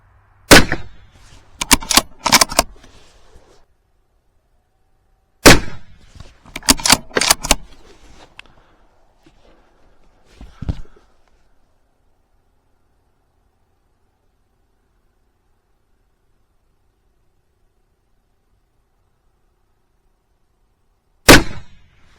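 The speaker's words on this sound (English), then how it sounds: "3 shots at 300 yards. 32 grain VMAX." .204 Ruger rifle firing 32 grain VMAX rounds at a 300-yard range: sharp, loud reports, two near the start and one near the end, each followed by a brief rattling echo, with long quiet gaps between.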